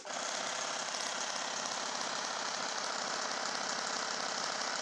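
A generator motor-wheel starts up and runs with a continuous rattling, buzzing mechanical drone, steady and fairly loud throughout with no voices.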